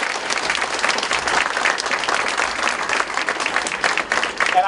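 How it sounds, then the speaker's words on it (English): A crowd at a political event in Lebanon, New Hampshire applauds the sign language interpreter, with loud, dense, steady clapping that fills the whole stretch without a break. "Would you give it up for Lori?"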